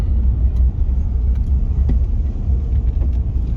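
A loaded Horsch Leeb 12 TD sprayer with a 3300-gallon tank drives along a road, its engine rumbling steadily in a constant low drone with no voices.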